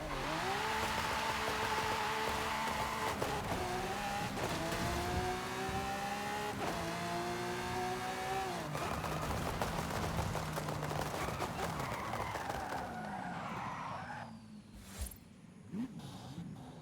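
Lamborghini Diablo with a V12 racing in Forza, loud engine revving up through repeated gear shifts with rising and dropping whine, then easing off into quieter thumps near the end.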